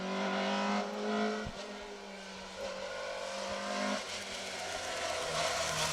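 A Corsa rally car speeds along an asphalt rally stage with an engine note that rises and falls and a brief high squeal, heard at a moderate distance without any voices.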